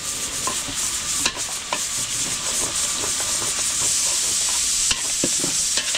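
Garlic, onion and green and red chilies sizzle steadily in a catering kitchen pan, a continuous frying hiss broken by scraping stirs and light clinks, with no talk.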